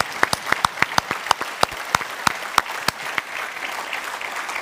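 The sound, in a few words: applause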